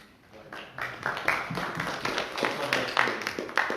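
A small audience at an author talk on self-publishing claps, the applause building from a few scattered taps into steady clapping that carries on at moderate volume.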